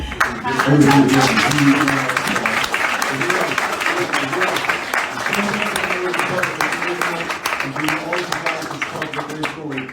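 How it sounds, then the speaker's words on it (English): Sustained applause from an audience, steady dense clapping filling the whole stretch, with voices talking underneath. "That's a massive round of applause for that"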